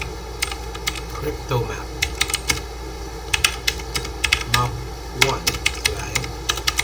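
Rapid, irregular keystrokes on a computer keyboard while entering VPN IPsec configuration commands in a networking lab, heard as sharp clicks in bursts under a person's talking.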